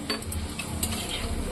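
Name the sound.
frying radhaballavi stuffed bread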